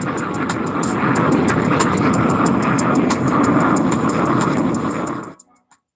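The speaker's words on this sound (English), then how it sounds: "Plane #1 in Iran." A fixed-wing airplane sounds close and loud, a steady broad engine roar with a rhythmic pulsing beat, holding level for about five seconds before cutting off abruptly.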